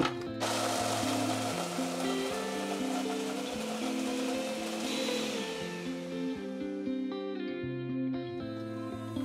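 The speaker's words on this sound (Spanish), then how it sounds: "Ahora en una licuadora o procesador de alimentos vamos a moler las galletas." Blender grinding 220 g of Marías vanilla cookies, a continuous motor whir with shifting pitch and a gritty rattle of crumbs, steady and close throughout.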